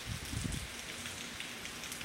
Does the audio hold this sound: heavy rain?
yes